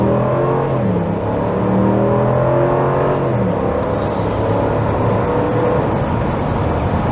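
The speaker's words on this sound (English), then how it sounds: "I'm gonna accelerate from the stop." A 2022 Jeep Wagoneer Series III SUV pulls away from a stop, its engine droning loud and close from inside the cabin as the tone climbs through several gear steps under steady road and wind noise.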